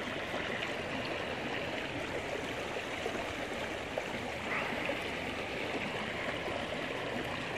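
Creek water flowing in a steady, unbroken outdoor rush, a continuous broad burble at moderate level with no voices.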